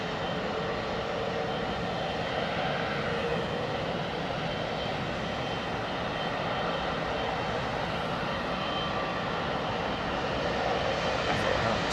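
Jet airliner engines roar steadily at Heathrow Airport, a broad, constant rush that holds level and unbroken throughout with no voices.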